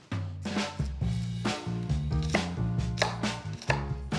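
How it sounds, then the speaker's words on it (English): Knife chopping Cajun trinity vegetables on a cutting board, a quick, steady run of crisp, close chops with repeated sharp impacts, loud and alone without talk. "I'm gonna cut up my Trinity"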